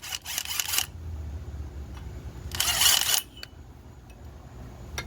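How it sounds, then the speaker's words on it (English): Impact wrench hammering a bolt on the steering linkage of a 1978 Ford F150 during a drag link and tie rod job, two loud rattling bursts, a short one then a longer one, with quiet shop noise between. "we can just slam an impact on it"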